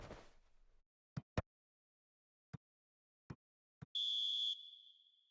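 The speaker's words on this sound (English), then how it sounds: "Added time is up, and there goes the whistle." Referee's whistle blowing full time in an eFootball match: a single sharp, high blast of about half a second that trails into a fainter tone, preceded by a few scattered soft clicks in otherwise quiet surroundings.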